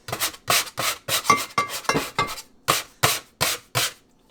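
A bench scraper works a sticky loaf of bread dough against a kitchen counter in about a dozen quick, rhythmic scraping strokes, close and fairly loud, with a short pause before the last few.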